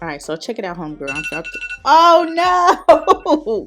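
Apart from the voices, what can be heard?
phone alarm ringing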